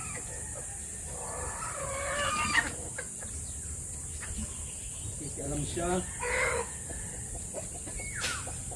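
A pet hen clucking near her chicks, with soft rooster-like calls and farmyard background noise, fairly faint and mixed with a brief spoken voice.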